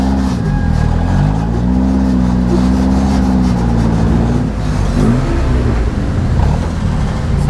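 A one-ton Toyota off-road truck engine drones loud and close while climbing a rock crack in Sand Hollow, its revs rising and falling in steady waves.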